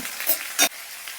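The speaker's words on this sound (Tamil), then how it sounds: "இப்போ கட் பண்ண காயை நல்லா வதக்கி எடுத்துக்கலாங்க மீடியமான தீலியே வச்சு நல்லா வதக்கலாங்க" Chopped ivy gourd sautés in oil over medium heat with a steady hiss and one brief scraping stir.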